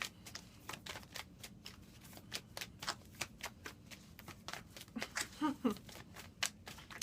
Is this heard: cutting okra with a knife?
no